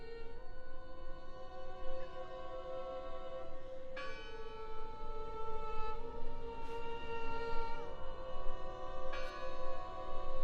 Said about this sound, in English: Listen! The bell! They're still in there!